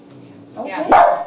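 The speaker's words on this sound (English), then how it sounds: "Sorry about my dogs. But you know, they're pretty loud." Barking from pet dogs indoors at home, a loud burst rising near the end over a person's brief spoken word.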